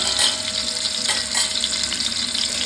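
Vegetables sizzling in a pan of frying onions while being stirred, a dense, loud, continuous hiss with faint scraping, up close.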